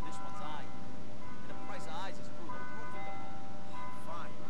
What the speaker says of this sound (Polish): I sorki za te dzwony kościelne.